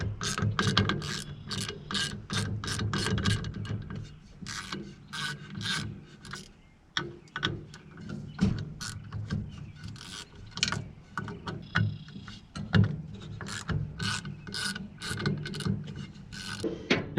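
Quarter-inch drive ratchet and socket working the small bolts on a Visibar light bar: repeated quick clicking pawl strokes in uneven bursts with brief pauses, close and fairly quiet, with no talking.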